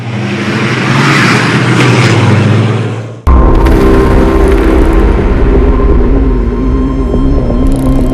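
The engine of a MAN TGE 280 classic rally truck at Dakar 2022 roars loudly. It cuts abruptly partway through and then resumes as a heavy, steady close-up drone.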